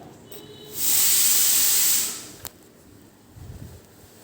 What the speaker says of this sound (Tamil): எண்ணெய் காஞ்சதுக்கப்புறம் உள்ளேயே நம்ம அப்படியே புழிஞ்சு விட்டுக்கலாம்